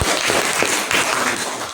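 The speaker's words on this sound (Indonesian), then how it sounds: "Diberi tepuk tangan kegiatan kita." Students clapping together in a classroom at the close of a morning lesson, a dense, steady patter of many hands sustained throughout, fairly close and loud with no voices over it.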